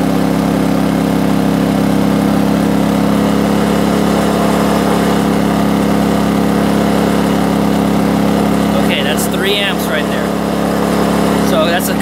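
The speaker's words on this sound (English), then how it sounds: "So I get to see how much my generator can handle before it says no more." A portable generator engine runs steadily and loudly throughout while powering a 72V e-bike charger, a constant droning hum with a brief voice near the end.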